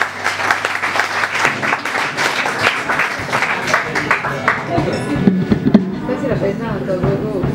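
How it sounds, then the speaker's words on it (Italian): Loud crowd applause, dense continuous clapping with cheers and voices mixed in throughout, at a live rock show. "Un applauso al Capitano Uncino."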